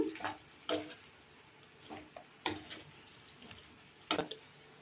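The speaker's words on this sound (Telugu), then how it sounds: "ఇప్పుడు అన్నీ మిక్స్ చేసుకుంటాను" A spoon stirs tamarind leaf chicken curry with chili powder in a pan, making intermittent wet scrapes and soft sizzling clatters in short bursts over a quiet background, with no talking.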